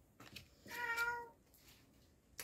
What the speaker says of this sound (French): Mon chat est avec nous.